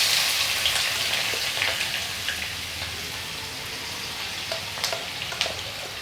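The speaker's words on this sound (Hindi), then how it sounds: "इसमें हम 4 प्याज बिल्कुल फाइन चॉप करके ऐड कर देंगे।" Finely chopped onions dropped into about half a cup of hot oil with two bay leaves, frying for mutton keema in a home kitchen; a continuous bright crackling sizzle that eases slightly after the first moment, with scattered pops.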